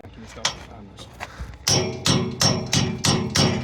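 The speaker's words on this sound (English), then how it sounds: "2 minutes into this video and the hammer is already out." Hammer blows on a Scania 4 series truck in a garage, a few lighter taps followed by six regular, loud metallic strikes close by, with faint voices underneath.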